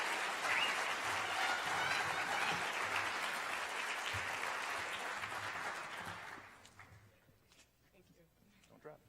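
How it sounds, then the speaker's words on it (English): A school auditorium crowd at a high school senior recognition night claps in sustained, dense applause for several seconds, fading out, leaving scattered quiet claps and light room noise. "Let's give a round of applause for quite the commitment over 4 years."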